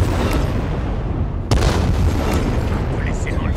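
Grenade explosion in the video game Dying Light 2, a sharp broadband blast about midway that rumbles on, heard loud and close over constant game noise.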